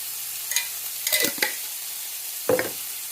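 Green beans cooking in a pan for a home dinner, a soft low sizzle under a few sharp bursts of stirring and scraping, close by with no talk.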